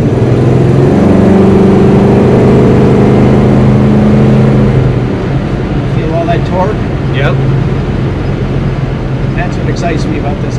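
A 1971 Pontiac T-37 with a 455 H.O. engine revs loudly and accelerates, the deep engine note strong and close for the first half before easing into a lower rumble, with voices talking over it.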